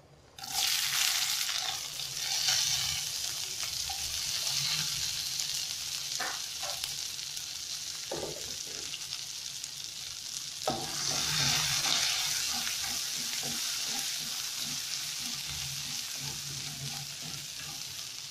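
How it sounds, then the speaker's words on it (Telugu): Green chillies frying with lentils in a pan for khichdi give a steady, loud sizzle, with stirring scrapes and clatter recurring throughout and no voices. "పచ్చిమిర్చి వేసుకుందాం."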